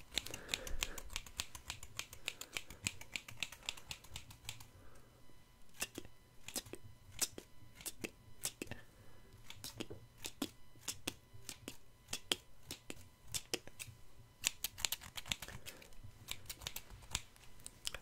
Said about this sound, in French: Il me suffit juste de d'abord couper le papier pour ouvrir le carton.